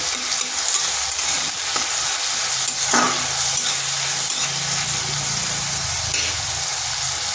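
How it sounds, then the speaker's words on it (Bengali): Chopped onion and crushed garlic fry lightly in a pan, giving a steady, dense sizzle throughout with occasional stirring scrapes, close and fairly loud, with a low hum underneath. "এবার পেঁয়াজ আর রসুন হালকা ভেজে নেব যাতে তার কাঁচা গন্ধটা চলে যায়"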